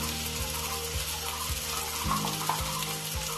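Tomato and onion stirred and fried together in a pan, a steady sizzle with a spatula scraping in regular strokes about every half second, close and fairly loud.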